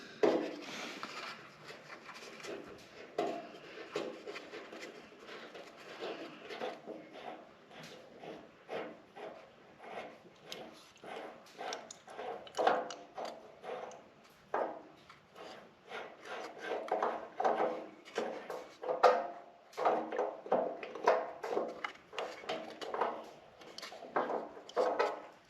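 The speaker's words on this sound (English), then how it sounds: "I'm going to take this bowl off and see what's going on" Tractor fuel sediment bowl being unscrewed and removed, with an old, fully compressed cork gasket gone rock-hard: close, dry scraping, rubbing and clicking handling noises in irregular bursts, with no talk.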